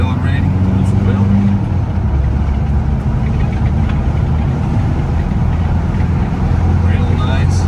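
A 1991 Isuzu Big Horn Irmscher R coupe with a 4JBT turbo diesel accelerates, giving a loud, continuous low engine drone heard from inside the cab.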